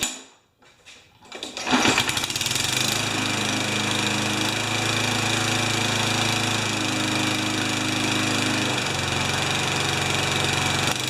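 An old Tecumseh small engine just out of ten years of storage runs steadily after a high-RPM carburetor tweak. A brief quiet start gives way to a loud, constant buzzing drone close by, with a slight shift in pitch partway through.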